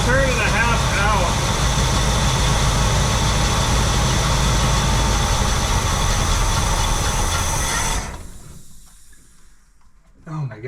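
A 1967 Pontiac Grand Prix convertible engine idles steadily and loudly while the idle mixture screws are adjusted, then cuts off abruptly near the end, leaving near silence.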